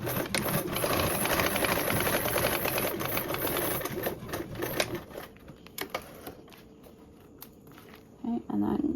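A sewing machine stitches a seam in a fast, loud mechanical burst for about five seconds, then falls quieter into clicks and handling sounds before another short run of stitching at the end.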